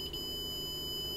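A multimeter on continuity mode emits a continuous high-pitched beep throughout, clear and close, with a faint hum beneath, while probing wires of a Creality Ender 3 3D printer for faults.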